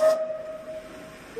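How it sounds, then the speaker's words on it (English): A steam locomotive's whistle at the GWSR Festival of Steam sounds one steady, close, piercing tone that holds for over a second after a short hiss at the start, with no voices. "Yeah, this is our whistle."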